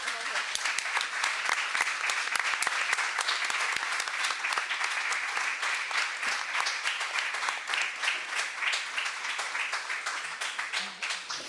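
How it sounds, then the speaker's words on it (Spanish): An audience claps steadily at the close of a literature festival panel, a sustained patter of many hands that holds for the full stretch and fades slightly near the end. "le damos el aplauso a esta primera mesa"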